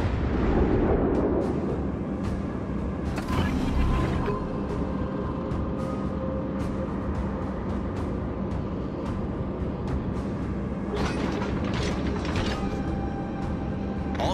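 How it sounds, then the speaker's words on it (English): Warship gunfire in World of Warships: Legends booms repeatedly over a constant low engine and sea rumble, the heavy shots landing at irregular intervals and fairly close throughout. "All stations, concentrate fire on the target."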